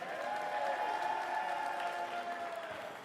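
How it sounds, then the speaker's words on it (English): Audience applause at youth speed climbing finals, a steady dense clatter of clapping with light crowd noise that holds for about three seconds and slowly tapers. "Let's get a fat round of applause for the ladies."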